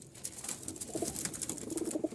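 Jalali pigeons, several males among them, coo softly inside a loft coop. The low repeated coos come in short bursts over a busy, hissy background, with no talking.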